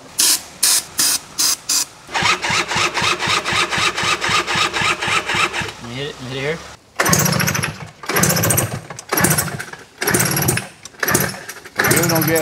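A two-stroke dirt bike engine is cranked in short stuttering pulses, then turns over in a longer rattling run before catching in loud, uneven revs and brief sputters, close to the microphone with no talk.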